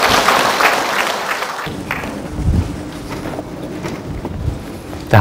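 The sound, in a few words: audience applause welcoming a lecturer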